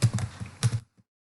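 Keys on a computer keyboard are tapped in a quick, uneven burst of about eight close, crisp clicks, then a pause and one faint final tap.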